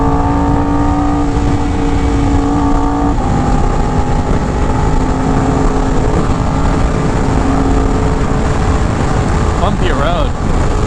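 A Yamaha R1M sport motorcycle at speed, its engine droning loudly and continuously with shifts in pitch as it revs and downshifts, under heavy wind rush.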